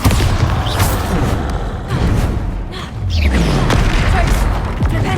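Bombarda spell explosions in Hogwarts Legacy, deep booming blasts and heavy thuds arriving in quick succession with loud rumbling impacts and debris clatter throughout.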